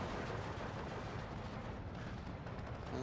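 Artillery shells and bombs landing in the Steel Division 2 wargame, a dense continuous rumble of distant impacts and crackling fire, steady and fairly faint throughout with no talk.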